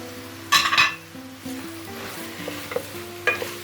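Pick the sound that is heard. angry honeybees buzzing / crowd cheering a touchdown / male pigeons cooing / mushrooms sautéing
mushrooms sautéing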